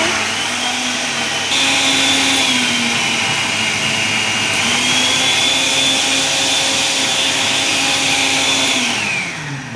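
A mixer grinder whirs loudly and steadily as it blends a tropical smoothie with ice cubes, its motor pitch holding a constant high whine for several seconds before winding down at the end.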